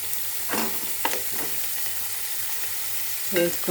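Food fries in a pan with a little turmeric added, a soft continuous sizzle broken by a few brief scraping stir strokes.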